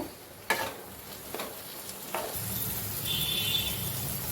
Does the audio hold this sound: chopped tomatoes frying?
yes